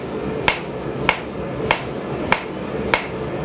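Five sharp, evenly spaced hammer blows on hot steel while forging a drawknife, struck with the round side of the hammer over steady shop noise, with no talk.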